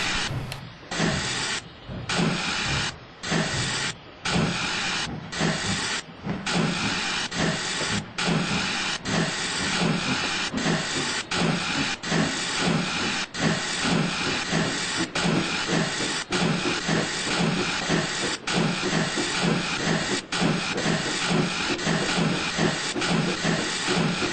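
A heavy steam express train pulls away with loud, continuous hissing steam and rhythmic chuffs that come closer together as it gathers speed.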